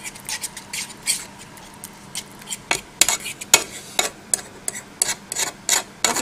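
Egg mixture for an omelette being whisked with a utensil in a bowl, a quick irregular run of light clinks and taps close by with no talking.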